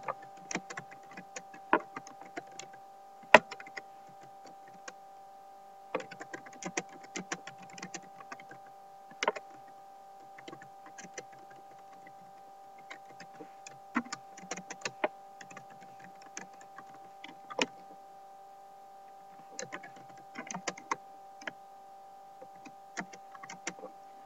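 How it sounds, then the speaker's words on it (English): Typing on a computer keyboard comes in bursts of quick, light key clicks separated by short pauses, close and fairly quiet over a faint steady hum. "So type in your message here."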